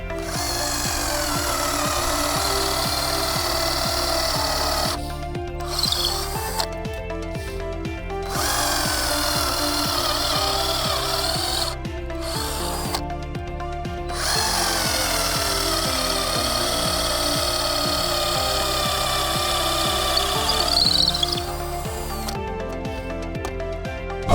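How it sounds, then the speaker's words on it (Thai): A 20 V cordless drill whines steadily as it bores into a wooden log, with brief pauses where the motor stops and restarts several times. "เราจะเริ่มเจาะไม้นะครับ"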